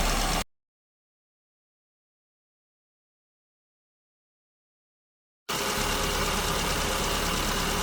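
Car engine with an SU carburetor idling near 1070 rpm during mixture adjustment: a steady, even rumble heard briefly, then cut to full silence for several seconds before the same constant idle returns.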